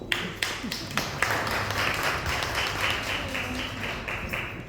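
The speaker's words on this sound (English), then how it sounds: "Let's give her a round of applause." A crowd at a community meeting claps together in steady, sustained applause, with a few sharper claps standing out near the start.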